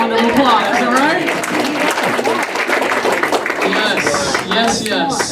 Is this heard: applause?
yes